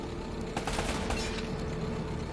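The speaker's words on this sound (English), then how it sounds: "Less talking, more shooting." Gunfire rattles in the video game Uncharted: Drake's Fortune, a dense burst of rapid shots packed into a couple of seconds, loud and continuous with no voices.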